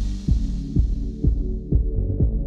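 A pneumatic pump runs close by with a low humming drone and a regular throbbing pulse, about one beat every half second, steady and alone.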